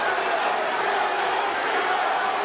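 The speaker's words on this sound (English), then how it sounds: "The crowd buzzing, they sense something." Steady arena crowd buzz at a boxing match between Teofimo Lopez and George Kambosos, a dense continuous murmur filling the space, with commentary voices mixed in.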